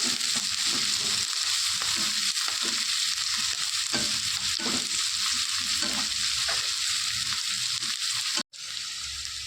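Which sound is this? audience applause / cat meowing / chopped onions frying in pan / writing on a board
chopped onions frying in pan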